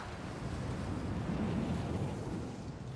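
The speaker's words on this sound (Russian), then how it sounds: "Ветер тут бешеный" Strong wind roars across a rugged outdoor landscape in the Rise of the Tomb Raider video game, a steady low rushing gust that swells slightly midway, with no voices.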